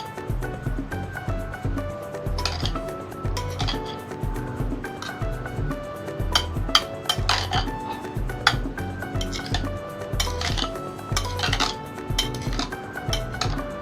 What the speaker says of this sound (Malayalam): ഇതൊന്ന് നമുക്ക് മിക്സ് ചെയ്ത് കൊടുക്കാം